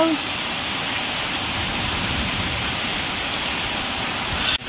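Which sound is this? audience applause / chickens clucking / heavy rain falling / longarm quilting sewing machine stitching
heavy rain falling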